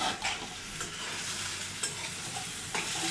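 Drumstick stems frying in hot oil, with a dense continuous sizzle and occasional scraping stirs of a spatula close by.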